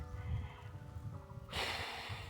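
A goat bleats in a wavering, drawn-out cry, followed by a burst of rustling noise; faint and close.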